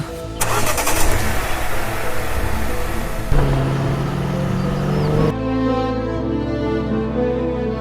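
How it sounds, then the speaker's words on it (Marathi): A car engine cranks and catches, then runs at a steady mid-pitched idle with a brief surge, fairly loud and close, with no voices. "चल लवकर गाडी चालू कर लवकर."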